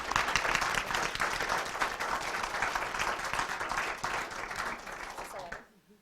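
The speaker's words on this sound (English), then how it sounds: "Could we have a round of applause?" Dense audience applause at a school spelling bee after a round ends, sustained and fairly strong, then cutting off abruptly near the end.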